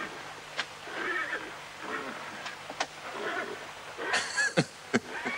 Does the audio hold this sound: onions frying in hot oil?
no